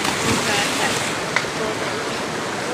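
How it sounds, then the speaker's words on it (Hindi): A small, fast-flowing river in a Kashmir village makes a broad, loud, steady rushing wash close by, with no clear breaks. "और जो दरिया है ये कटा है छोटा सा, इसका प्रेशर भी बहुत तेज है"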